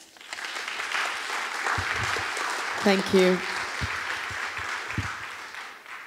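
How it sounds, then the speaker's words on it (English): An audience applauds steadily for a speaker introduced at a feminist political event, sustained crowd clapping throughout, with a brief spoken thanks cutting in near the middle. "So please give a big round of applause for Elif."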